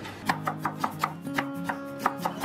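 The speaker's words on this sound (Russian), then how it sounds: "Мелко порежу укроп." Rapid knife chops on a board as fresh dill is cut finely for a zucchini and cottage cheese pie batter, about a dozen crisp close taps in an uneven rhythm over a faint background hum.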